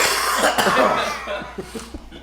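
A person coughs in a few harsh, close bursts, then gives a couple of quieter throat sounds as the fit fades.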